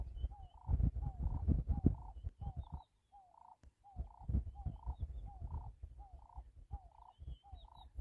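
Bird calls sound at night on a safari in Samburu: a faint, repeated two-note call returns in a regular rhythm over quiet, low rumbling background noise, with no voices.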